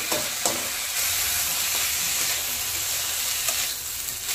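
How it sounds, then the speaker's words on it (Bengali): Steady loud sizzling and hissing of Gobindobhog rice frying in ghee, with occasional scraping stirs of a spoon against the pan. "এবার এই চালটাকে একটু ভেজে নেব"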